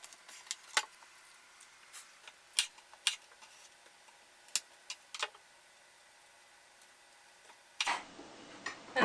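A knife chopping the hard, crusty bottoms off garlic cloves gives a string of crisp, irregular ticks and taps at close range, with a louder clatter near the end.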